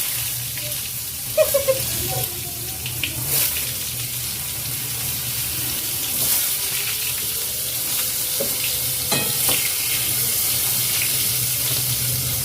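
Brinjal slices frying in a pan, a steady close hiss of oil with occasional clinks and scrapes running throughout, a broad watery texture like a running tap underneath.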